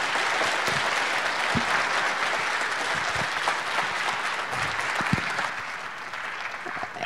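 An audience at a diving conference applauds, a dense and steady clatter of many hands clapping that lasts several seconds before gradually thinning out.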